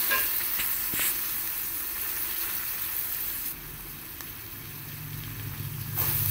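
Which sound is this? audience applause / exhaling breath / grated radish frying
grated radish frying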